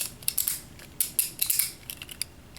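Small plastic Beyblade Burst top parts click and snap together, a series of sharp close clicks and crunchy rattles, some louder than others, with no talking.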